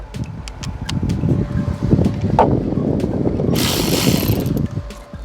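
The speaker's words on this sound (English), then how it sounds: "just using my ratchet here and just loosen them a little more." Hand ratchet loosening 12mm bolts during belt replacement on a Honda Accord engine, giving rapid clicking pawl strokes over a low mechanical rumble, close by, with a brief hissy burst near the end.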